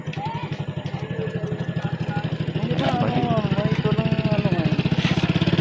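A motorcycle engine idles nearby with a steady low chugging pulse that grows slightly louder midway, while people talk over it.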